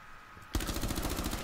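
A sudden loud burst of rapid gunshots in Rainbow Six Siege breaks a quiet moment and keeps rattling close by to the end.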